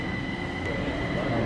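Steady rumble of a Kaohsiung, Taiwan metro train in motion, a constant low roar with a faint high whine above it.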